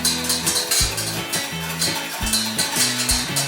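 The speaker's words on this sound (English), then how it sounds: "Keep whisking the eggs." Metal whisk beating eggs for hollandaise sauce in a pan, a loud, steady run of rhythmic scraping strokes with sharp metallic clinks on each pass, close up and with no talking.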